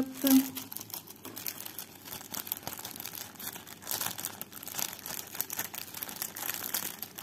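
Packaging for metal diamond painting rulers is crinkled and torn open, with a brief sharp rustle at the start followed by softer intermittent crinkling close by, while someone talks.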